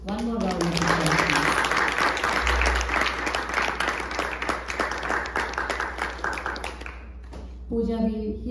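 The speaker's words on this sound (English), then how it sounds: "One more round of applause." Applause follows an Indian classical concert of vocal and violin. Clapping is dense and lively with some louder individual claps, fades around the seven-second mark, and is followed by a voice speaking at the end.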